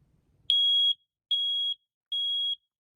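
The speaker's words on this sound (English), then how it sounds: "Today I'm going to be testing this Kiddie basic smoke alarm from my smoke alarm collection." A Kiddie basic smoke alarm sounds during a test: three loud, piercing electronic beeps in a steady temporal pattern, each about half a second with short gaps, following a brief low rumble and otherwise silent.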